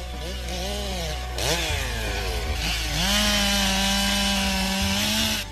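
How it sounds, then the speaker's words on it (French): A chainsaw whines and bogs down as it cuts into oak in a forest, its pitch dipping and rising with the load, loud and close. "Et loin de l'agitation de la tronçonneuse"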